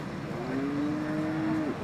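A seven-to-eight-month-old Australian breed bull calf at a cattle market gives one drawn-out, fairly loud moo with a slight rise and a falling end, heard over steady background noise.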